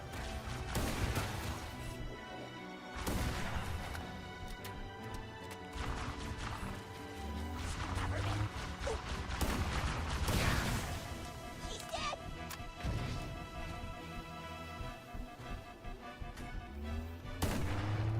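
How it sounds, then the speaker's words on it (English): Rockets fire and explode against Wraith and Hunters in a Halo campaign battle, with repeated loud booms, crashes and gunfire throughout a dense, continuous combat soundscape. "Feels like it's safer just to snipe the Wraith and the Hunters with the rockets."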